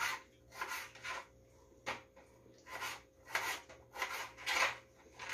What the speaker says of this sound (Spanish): así vamos a ir cortando todas las fresas hasta acabar de cortarlas